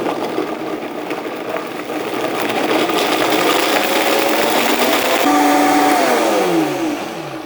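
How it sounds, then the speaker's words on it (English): A high-speed blender purees chili, a steady loud whir that rises in pitch partway through as the motor speeds up, running continuously with no talk. "I let this run for a couple of minutes, and this is a high-speed blender"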